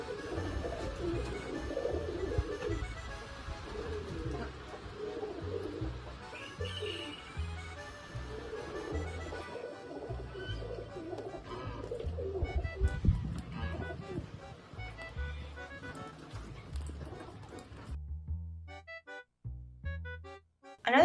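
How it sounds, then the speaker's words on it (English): Baby pigeons coo in a steady run of soft, low, throaty calls repeating close by for about twenty seconds, then thin out into a few scattered coos near the end. "So enjoy this baby pigeon clip."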